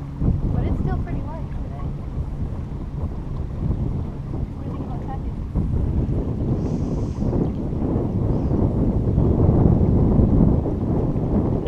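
Heavy wind buffets the microphone aboard a sailboat during a race, a steady rushing roar that swells louder in the second half, with faint water noise and occasional voices.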